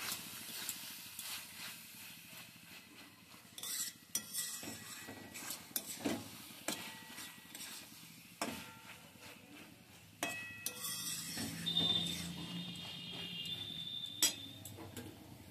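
Cauliflower stalk curry with ground panch phoron being mixed in a pan, sparse, faint taps and clinks of a spoon against the pan at uneven intervals in a quiet room.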